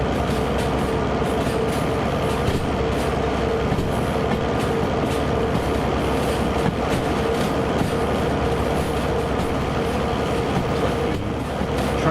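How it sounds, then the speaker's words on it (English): A train in the Derail Valley video game rolls steadily along the track, a continuous dense rumble with faint rhythmic clicks, close and even in loudness, heard without talk. "The train is following us in an orderly fashion."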